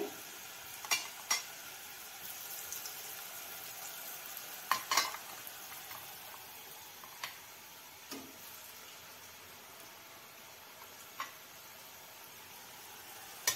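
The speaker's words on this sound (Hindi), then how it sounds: "एक एक करके ऐसा ही हम सब चकली को तेल में डाल देंगे" Chakli, a crispy spiral snack, frying in hot oil over low heat: a soft, steady sizzle and bubbling throughout, punctuated by occasional sharp clicks and taps from the pan or utensil, without voices.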